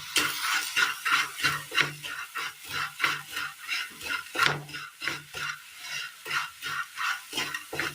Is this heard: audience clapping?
no